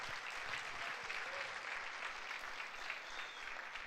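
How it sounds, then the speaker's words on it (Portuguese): Applause from a church congregation at a pastors' gathering, a faint, steady wash of many hands clapping in a large room, continuous throughout. "Dá um aplauso aí ao Senhor."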